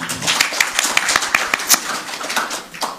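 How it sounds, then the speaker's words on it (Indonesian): A small audience at an Indonesian talk gathering claps for Kiai Fuad, a scattered, uneven patter of individual hand claps, fairly close and moderate in volume, rather than a full roar. "saya salut lagi sekali tepuk tangan untuk Kiai Fuad"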